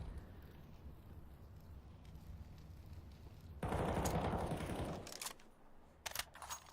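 Rifle fire from an M4 in a Counter-Strike match bursts out loudly as a rapid volley lasting over a second, followed by a few sharp scattered shots.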